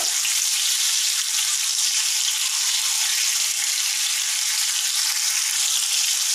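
Chicken tikka sizzling loudly in a pan as the pieces are turned, a dense, steady, close hiss of frying oil with no voices.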